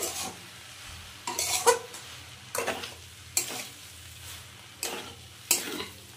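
A spoon stirs papaya and pumpkin curry in a pan, with several scraping, sloshing strokes at a steady pace and a soft low simmer underneath; no talking.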